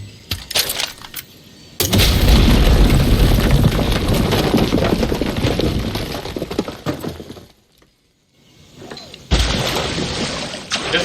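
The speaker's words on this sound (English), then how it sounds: "So I guess I can just use a grenade launcher here." Grenade launcher blast in Far Cry 6: a sudden loud burst of crashing, shattering noise that roars and slowly fades, drops to near silence, then another loud burst kicks in.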